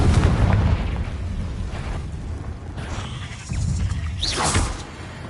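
A Confringo fire spell bursts in Hogwarts Legacy with a heavy booming explosion, followed by rumbling fiery roars and a second swelling blast, all loud and close.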